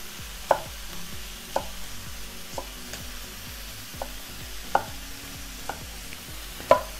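A knife slicing bell pepper into wedges on a cutting board: sharp irregular taps and cuts, about a dozen over several seconds, close and clear against a low kitchen hiss.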